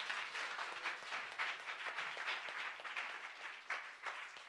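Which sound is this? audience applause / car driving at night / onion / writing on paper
audience applause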